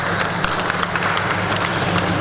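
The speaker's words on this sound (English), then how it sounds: "Give her a round of applause." Audience applause at a responsible and sustainable tourism network event, a steady dense burst of clapping from a crowd filling the room for the full couple of seconds.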